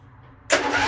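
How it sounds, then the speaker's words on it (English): A hot-rod tractor engine with a Briggs & Stratton starter cranks and catches after a half-second of quiet, then runs loud and close, with a broad, steady roar to the end. "That starter sounds so much better."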